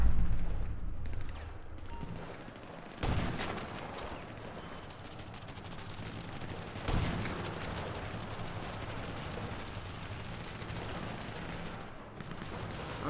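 Sniper gunfire in GTA 5, two sharp loud cracks a few seconds apart standing out over a busy rumbling background of other gunfire and action.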